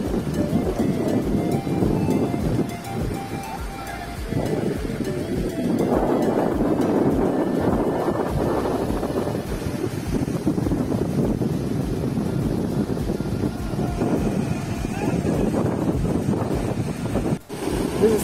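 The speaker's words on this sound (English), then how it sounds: "This is Mobor Beach, next to Betul Beach." Waves wash and roll at Mobor Beach in South Goa while strong wind buffets the microphone, a loud continuous roar of surf with gusty rumble.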